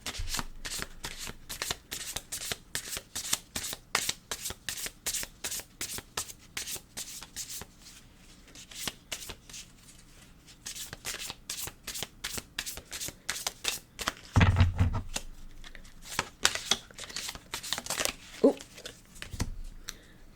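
Deck of tarot cards shuffled by hand close up, a long run of quick riffling flutters and soft slaps, faint and steady, with a few louder knocks near the end.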